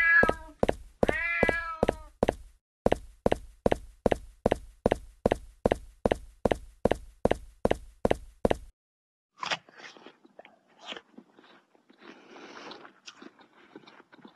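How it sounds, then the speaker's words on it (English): Cat meows in the Scary Stranger 3D video game's backyard level: a few tonal meows open a long run of evenly spaced, sharp repeated hits, followed by quieter scuffling and rustling noises. "Hello, kitty. Kitty, kitty, kitty. I know you're here. I can hear you breathe."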